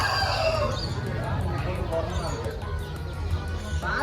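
Chickens cluck and a rooster crows at a poultry farm, the birds calling in bursts and overlapping while people talk nearby.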